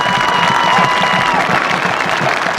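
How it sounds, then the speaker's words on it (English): A crowd applauds at a stadium dedication before a 1998 high school football game, the clapping dense, steady and continuous throughout. "Let's give John a big hand of applause."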